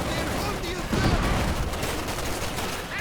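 Bursts of gunfire and a bundle grenade blast from infantry combat in the strategy game Company of Heroes 2, a thudding explosion near the middle amid crackling shots, with a voice talking over the battle.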